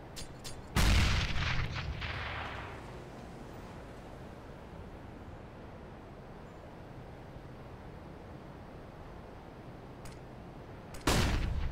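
A grenade blast in Counter-Strike: Global Offensive: one loud, sudden boom that rumbles and fades over about two seconds, then a steady low ambient wash, and a second sharp burst near the end.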